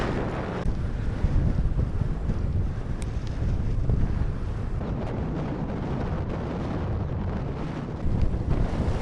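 Strong wind buffeting the microphone on a road in Bayankhongor, Mongolia, a constant loud rushing roar with gusty swells throughout.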